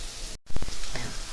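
Potatoes, onions and green chillies frying in a pan for egg and potato bhujia give a short, steady sizzle that cuts out for a moment, then returns with a few quick clattering bursts.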